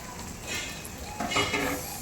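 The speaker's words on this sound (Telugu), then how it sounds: "దీంతో ఇప్పుడు మనం పెరుగు వేసుకుందాము." Yogurt going into biryani gravy in a pot on a low flame, with a short run of stirring and scraping against the pot and a faint sizzle underneath.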